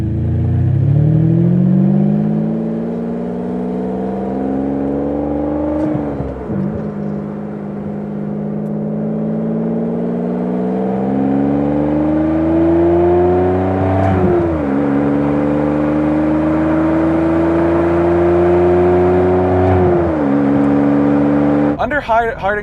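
A Ferrari 575M V12 with its old single-clutch F1 gearbox pulls hard, its engine note climbing loudly through several gears with short dips at each quick upshift, clear and close inside the cabin.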